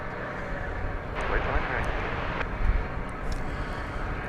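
A Qatar Airways airliner rumbles at DFW Airport with a broad, distant jet roar, while a person talks over it.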